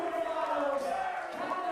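A darts crowd at a USA versus Canada championship match, roused by a player, gives a sustained roar and chant, loud and continuous with voices blending.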